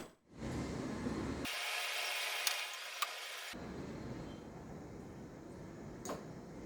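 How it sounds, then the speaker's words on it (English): A robot arm moves to deliver gearbox parts during assembly, a smooth sliding mechanical whir with a brief louder stretch and a couple of light clicks, close and alone. "Please wait for the robot arm to provide the parts."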